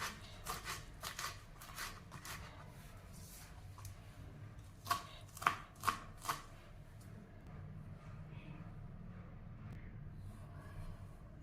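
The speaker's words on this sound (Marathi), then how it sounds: "आता ही आपल्याला बारीक चिरून घ्यायची" Fresh fenugreek leaves being finely chopped on a board, a quick run of faint cutting taps at the start and a few sharper, louder chops in the middle over a low background hum.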